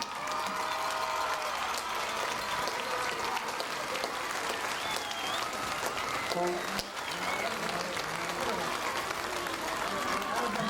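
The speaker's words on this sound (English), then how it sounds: "give your 2005 Ardmore Tigers another round of applause" Sustained applause from a large crowd at a high school football game fills the space, dense and continuous, with a few voices faintly mixed in.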